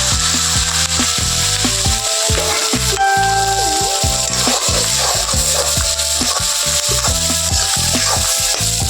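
Onions fry in a pan for pav bhaji, with wooden stirring scrapes and rubbing repeating over a soft sizzle, while steady tonal music plays loudly underneath throughout.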